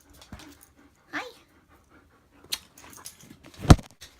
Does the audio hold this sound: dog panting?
yes